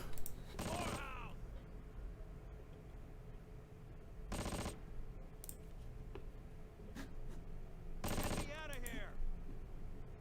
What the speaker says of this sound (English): Even the overlapping shots are hitting a target.